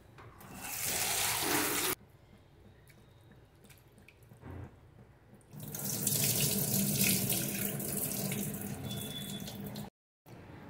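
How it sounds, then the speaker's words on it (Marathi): Poha (flattened rice) is washed under a running kitchen tap, giving loud bursts of gushing water that stop and restart, with quieter dripping and handling in between. "आपण हे पोहे स्वच्छ धुवून घेतलेले आहेत।"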